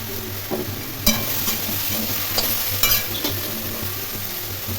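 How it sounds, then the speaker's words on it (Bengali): Mixed vegetables, including diced aubergine, are stirred and lightly fried in a pan, with a soft steady sizzle and occasional sharp clinks and scrapes of the spatula, and no speech. "সমস্ত সবজি খুব ভালো করে নাড়াচাড়া করে অল্প ভেজে নিলাম"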